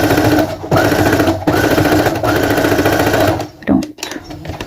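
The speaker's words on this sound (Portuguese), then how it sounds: "Tem que costurar os dois lados a medida igual" A sewing machine stitches the seams of an adult fleece coat. It sounds in loud, close, rattling bursts separated by short pauses, then stops near the end as fabric is handled.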